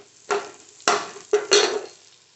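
Curry leaves dropped into hot oil with frying onions, ginger and garlic for vermicelli khichadi: short bursts of crackling sizzle and spatter, four distinct hits over a couple of seconds, close and fairly faint.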